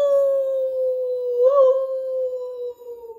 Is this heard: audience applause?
no